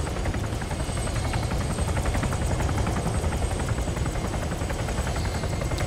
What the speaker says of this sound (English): I can't hear you, sir, because of all these choppers.